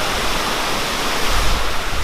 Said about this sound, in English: Mr. Walker, traversing Western Creek waterfall.